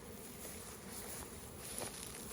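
A honey bee swarm buzzes softly during a vacuum catch, a faint continuous hum of many insects with a light patter throughout.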